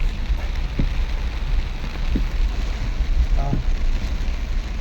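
Heavy rain drumming on a mini van during a downpour, a steady loud wash of noise heard from inside the vehicle with scattered heavier drops and occasional faint tones.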